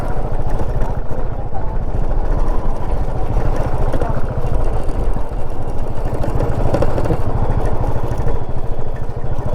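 A Royal Enfield Bullet motorcycle thumps along a rough, bumpy road, its close, loud engine pulsing steadily with rattling clatter throughout, while someone talks over it.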